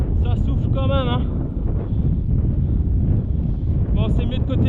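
Strong wind roars steadily into the microphone of a cyclist riding to work, a loud constant rumble with a voice speaking over it at the start and end.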